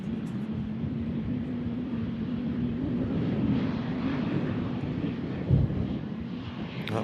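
Strong breeze buffeting an open microphone at an airfield, a steady low rumbling roar with gusty swells and one thump near the end, continuous throughout with no other clear sounds.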